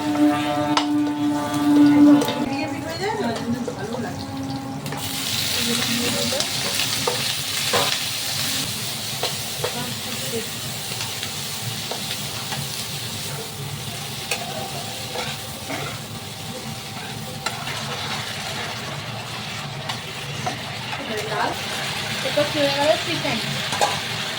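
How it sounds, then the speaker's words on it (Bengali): Garlic and green chillies fry in a wok as they are stirred, a steady, loud sizzling hiss that swells after the first few seconds and carries on for the rest, with faint background voices. "রসুন আর কাঁচা লঙ্কা একটু ভাজা ভাজা হয়ে গেলে কাঁচা গন্ধটা উঠে যাওয়ার পরই দিয়ে দেবে"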